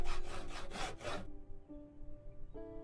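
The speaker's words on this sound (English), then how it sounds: "I need to saw the logs first" Logs being sawn in the video game Project Zomboid (Build 41): a quick run of about five rhythmic, rasping saw strokes, then the sawing stops, leaving faint sustained game tones and a soft chime near the end.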